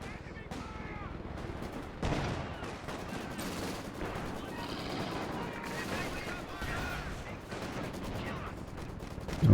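Machine gun suppression fire in a real-time strategy game match, rapid bursts of gunfire and explosions layered under continuous commentary.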